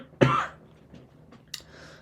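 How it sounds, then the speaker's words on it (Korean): A man with a lingering cough clears his throat sharply once, followed by a softer second cough about a second later, close and alone in a quiet room. "제가 아직 기침이 다 낫지가 않아가지고"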